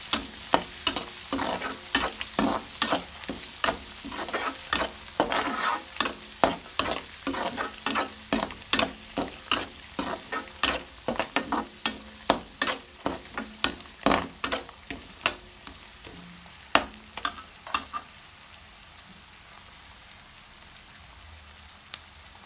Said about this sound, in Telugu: ఇందులో అయితే ఫ్రై చేసుకున్నాం.